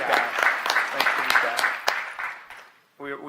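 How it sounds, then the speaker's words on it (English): Applause in a board of trustees meeting, a steady patter of clapping from the room that fades out near the end, followed by a brief spoken voice. "I'm going to clap again."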